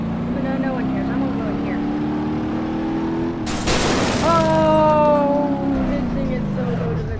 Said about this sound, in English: There you go, that's a crash.